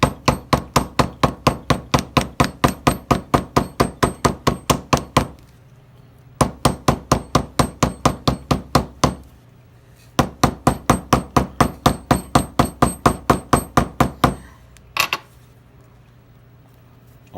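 Rapid, steady metallic tapping of a hammer on a leather stamping tool in a saddlery, in three long bursts separated by short pauses, loud and close.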